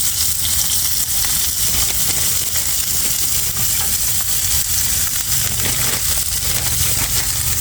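Cut onions frying loudly in oil and roast drippings in a pan for a French dip sandwich, a steady dense sizzle with faint crackle and occasional stirring scrapes throughout.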